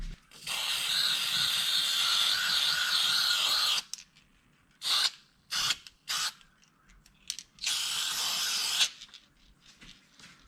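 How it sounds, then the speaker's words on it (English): A generic red spray paint can hisses out a long continuous burst, then several short puffs and another long spray, close by in a quiet engine bay setting. "I got myself a generic red paint can, so I'm just gonna paint all over it."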